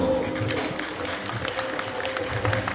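Audience applause rising from a crowd at a live outdoor religious fair (mela) at a Sufi shrine, a steady wash of clapping hands lasting throughout, with a faint drone and scattered voices underneath.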